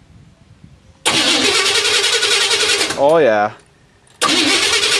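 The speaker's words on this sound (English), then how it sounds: "It should be crank if everything works good." The TANKenstein project vehicle's engine cranks with a loud, steady grinding whine, then gives a short rising sputter, falls silent, and cranks again; a voice briefly speaks in the background.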